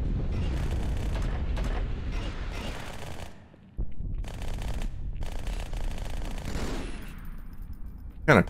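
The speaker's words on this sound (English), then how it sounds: "Oh, that's the submachine gun." Halo 2 submachine gun fire in rapid sustained bursts, loud and close, broken by a short pause, with light game effects trailing at the end.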